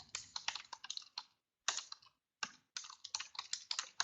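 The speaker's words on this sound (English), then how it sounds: "Let me just quickly type that in." Fingers typing a website address on a computer keyboard, quick bursts of crisp close key clicks broken by short pauses.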